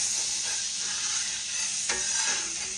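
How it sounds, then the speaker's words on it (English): Flour sizzles as it is sprinkled into hot fat in a pan for gravy, a steady bright frying hiss with a brief clink of stirring near the end. "When it gets hot, you sprinkle your flour in."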